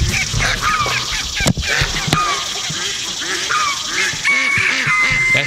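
Geese honk on a farm alongside ducks in a loud, continuous chorus of overlapping calls, close by, with a few sharp knocks partway through.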